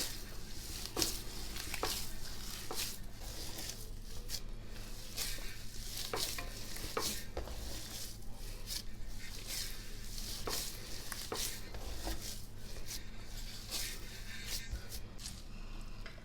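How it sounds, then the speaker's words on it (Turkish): Hatay-style kısır is kneaded by hand with wet hands, giving continuous soft, moist squishing and pressing sounds in an even rhythm, close and moderately quiet, with no voices. "ara ara ellerimizi ıslata ıslata yoğurmaya devam edeceğiz"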